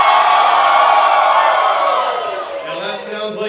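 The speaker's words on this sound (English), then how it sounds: "Can we make that yell sound just a little more stupendous?" A packed convention hall crowd at a furry convention's opening ceremonies yells and cheers loudly in a sustained roar that slowly fades, with a few whoops near the end.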